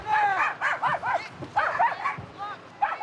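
A dog yips and barks excitedly in bursts during a police traffic stop, with loud close whimpering yelps repeating over a few seconds while voices are heard beneath.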